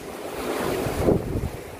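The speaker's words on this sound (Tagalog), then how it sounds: "Lakas ang alon" Strong sea waves surge and crash in a steady roar around a building in the sea at Dumangas, Iloilo, with heavy wind buffeting the microphone throughout.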